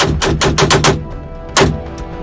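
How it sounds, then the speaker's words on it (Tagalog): A 9mm pistol firing rapidly in a test-fire, a quick burst of five sharp, loud shots followed after a pause by one more. "Tumunugoy, rapido. Ika nga ng mga pulis parang machine gun."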